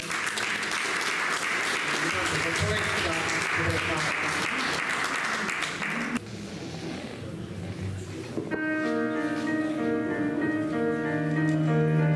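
An audience in Sicily gives loud, continuous applause for a singer at a poetry contest; the clapping stops abruptly and a sustained musical tone takes over.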